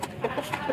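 An Aseel hen clucks beside a rooster in a poultry pen, giving several short, soft clucks in quick succession, fairly close and moderately loud.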